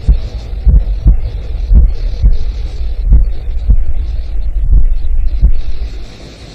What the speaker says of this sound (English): It turns its heartbeat down, and without even a shiver, surrenders to the cold.